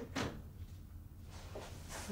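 Someone pulls open the top drawer of a kitchen cabinet. Two quiet sliding knocks come about a second and a half apart in a hushed room, and no one speaks.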